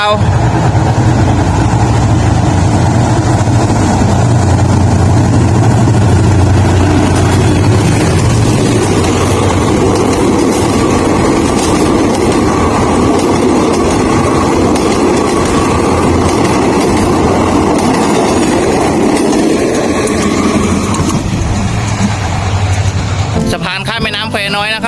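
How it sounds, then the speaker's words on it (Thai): A train rumbles loudly and continuously as it crosses a railway bridge over the Khwae Noi River in Phitsanulok, Thailand, a heavy roar with rattling wheels for a long stretch. "รถไฟกำลังจะข้ามสะพานข้ามแม่น้ำแควน้อยนะครับที่จังหวัดพิษณุโลกครับ"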